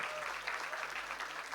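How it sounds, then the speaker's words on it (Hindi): Faint applause from a concert audience in Bhopal, India, a soft, even patter of clapping heard at a distance for a moment. "जोरदार तालियों के साथ"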